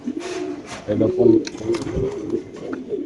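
Racing pigeons, including a Tiger Afsan, coo softly and repeatedly at close range, their low throaty calls mixed with rustling and someone talking nearby.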